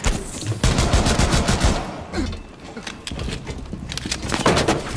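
Rapid automatic gunfire in Rainbow Six Siege, loud, close bursts with short gaps between them, mixed with faint in-game clatter.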